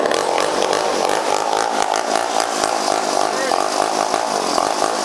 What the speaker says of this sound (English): this old vintage 1960 or thereabouts Homelite Zip chainsaw